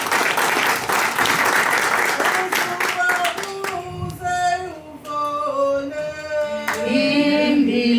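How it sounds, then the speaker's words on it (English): An audience at a panel discussion on rural land and heritage claps loudly for several seconds, then the applause thins out as voices and tuneful singing or music take over. "please can you give them a round of applause?"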